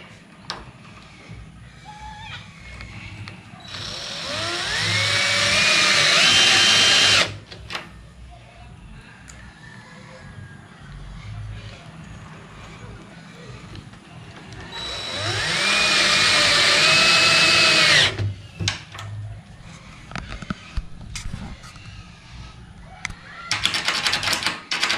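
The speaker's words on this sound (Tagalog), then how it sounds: "ngayon lalagyan na natin ng tornilyo" Power drill driving screws while a door lock is installed, two loud whirring bursts of a few seconds each separated by quieter handling clatter, close by.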